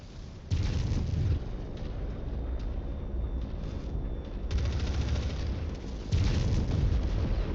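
A destroyed mech target explodes in MechWarrior 5, with heavy rumbling blasts and booming bursts of gunfire rolling loudly and continuously and surging anew in several waves, without talk.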